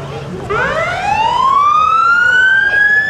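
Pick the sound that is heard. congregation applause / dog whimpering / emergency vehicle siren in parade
emergency vehicle siren in parade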